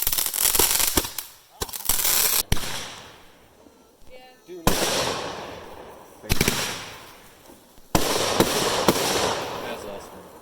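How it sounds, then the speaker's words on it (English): Fireworks go off outdoors at a Fourth of July celebration, loud crackling bursts and bangs in several clusters separated by brief lulls, with faint voices in between. "light off some fireworks, and celebrate life"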